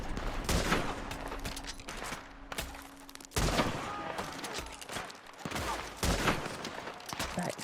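Deadeye gunfire in Red Dead Redemption 2: sharp gunshots in irregular bursts, each with a booming low thump and a short echoing tail, with game sounds and some voice between them.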